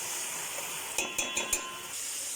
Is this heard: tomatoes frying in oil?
yes